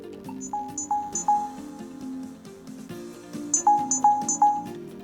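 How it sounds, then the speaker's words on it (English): Avaya J Series desk phone playing ringtone number 1: two bursts of three bright, chiming electronic tones, repeated after a short pause over a soft background hum. "So I'll let you hear the ringtone if you're not sure what ring number 1 sounds like."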